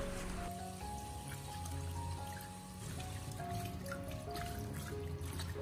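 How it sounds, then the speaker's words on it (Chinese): Blanched pork trotters rinsed under a running kitchen tap: a steady, close trickle and splash of water that continues for several seconds. "再把它放进自来水中，将它冲洗干净，把上面的浮沫完全的冲洗掉"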